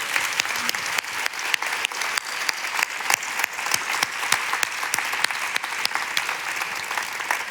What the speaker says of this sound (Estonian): teeme aplausi kõigile nendele, kes seal nädalast osa võtsid